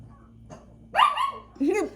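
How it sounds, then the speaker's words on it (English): A dog tied up outdoors barks twice, loud and close, with a softer whimpering lead-in before the sharp barks. "Oh, the dog outside."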